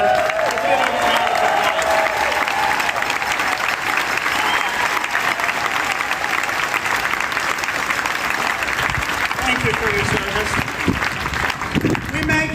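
A crowd at a political rally in Norco, California applauds veterans, a dense sustained wash of clapping lasting the whole stretch with scattered cheers and voices mixed in.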